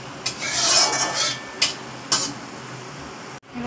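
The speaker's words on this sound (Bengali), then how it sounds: "তেজপাতা, জিরে দিচ্ছি, দারচিনি, এলাচ, এগুলো দিয়ে আমি একটুখানি নেড়ে নেব।" A spoon scrapes and stirs bay leaf, cumin, cinnamon and cardamom in a pan, giving close, raspy rubbing with a few sharper clinks of metal, then a short quiet gap near the end.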